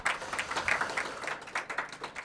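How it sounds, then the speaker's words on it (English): Audience applause at the Dr Wu Lien-Teh Award Ceremony 2026, a steady patter of many hands clapping at moderate distance, continuous and fairly even throughout with no voices over it. "please join us to give them a big round of applause again"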